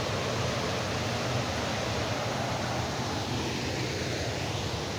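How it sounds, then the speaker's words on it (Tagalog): Steady broadband rush of flowing water, likely a stream or waterfall, heard along a rough forest trail; a constant close wash with no breaks and no voices. "tunog ng tubig."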